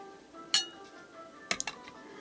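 Spiced apricots being moved from a pan into a bowl: two faint, sharp clinks of a spoon against dishware, one near the start and a small cluster later, over quiet background.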